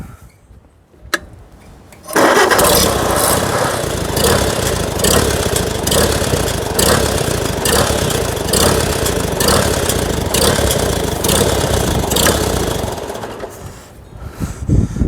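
A Farmall C tractor engine, revived after sitting, starts up and runs with a hunting idle, its speed surging and sagging over a steady loud, near rumble with ticking mechanical clatter, and no voices.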